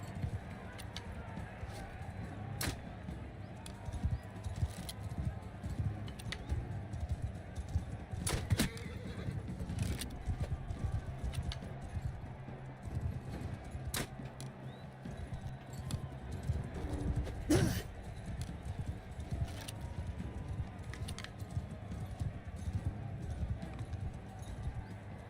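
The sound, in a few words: horse galloping hooves in Mount & Blade 2 video game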